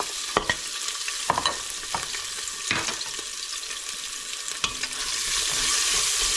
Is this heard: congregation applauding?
no